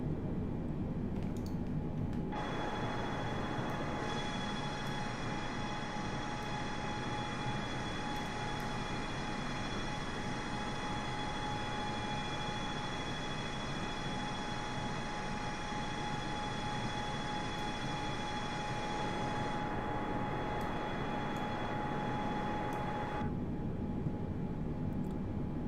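Steady, even roar of a Boeing 747's airplane engines in Microsoft Flight Simulator, a constant hum with a high whine layered on top, heard alone without talk.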